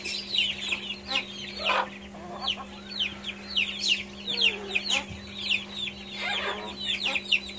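Chicks peep in quick, high chirps while a hen clucks nearby as the chicks try to climb steps to reach her, the calls close and continuous over a steady low hum.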